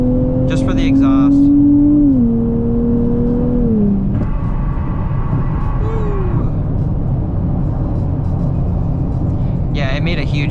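Nissan Z exhaust on a highway at night during a fourth-gear full-throttle pull, a rising engine drone that climbs steadily, breaks at a shift, then settles into a loud, constant cruising rumble with road noise.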